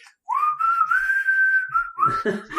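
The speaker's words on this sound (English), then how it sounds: "you come out and start whistling" A person whistles a long, sustained tune during a tabletop role-playing game session, clear and close, with no talking.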